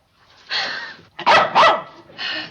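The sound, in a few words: dog barking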